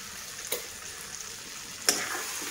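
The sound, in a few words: frying greater yam in a pan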